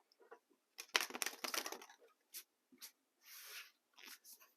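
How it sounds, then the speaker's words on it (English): A tarot card deck is shuffled by hand in short bursts of quick riffling and flicks, close and fairly quiet, with brief pauses between. "One more shuffle for good measure."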